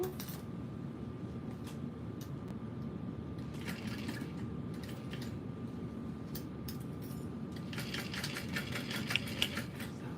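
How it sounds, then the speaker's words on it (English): A sewing machine runs steadily while stitching across a backpack panel, making a faint mechanical hum with a thin constant tone, punctuated by light ticking bursts and clicks toward the middle and end. "we will sew across this panel"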